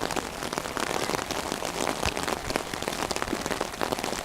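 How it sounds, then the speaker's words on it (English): Heavy rain pours down steadily during a high school varsity baseball game, a dense, continuous hiss of drops pattering on surfaces, loud and unbroken with no voices over it. "it's the hardest it's rained all game"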